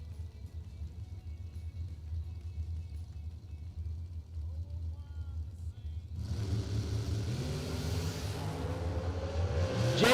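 A dragster launches at a bracket drag race, starting as a low, steady rumble and then surging into a loud, rising engine roar for the final few seconds, with a commentator talking over it.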